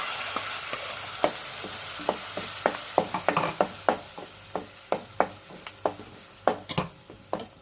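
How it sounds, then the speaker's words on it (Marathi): Ground coconut paste goes into a pan of mango curry and gets stirred, with a quiet sizzle under a steady series of sharp spoon scrapes and taps against the pan, close and fairly regular. "आता हे खोबऱ्याचं वाटप केलं ते घालते"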